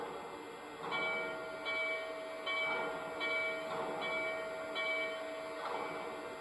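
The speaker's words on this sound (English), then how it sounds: "Next, here's the bell." The bell of a Lionel Legacy N&W J-Class 4-8-4 #611 model steam locomotive rings in evenly spaced strokes, about one every three-quarters of a second, over a steady hissing background.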